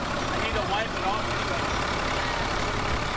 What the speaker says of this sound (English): turned the engine on to check for leaks